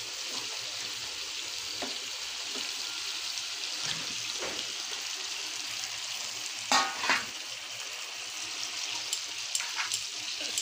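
Fish pieces frying in a pan of spicy chilli paste for a Bengali fish curry, giving a steady close hiss and crackle with a few louder spits and stirring scrapes, no talk.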